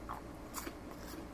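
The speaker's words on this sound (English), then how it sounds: "this is crunchy because I fried it" Biting into crunchy fried jackfruit gives a few soft, close crunches and chewing sounds over a short moment, with no talk.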